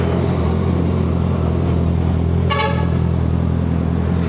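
A short horn blast from a 2025 Honda CBR650R motorcycle sounds once, brief and fairly loud, over a steady rumbling engine and road noise.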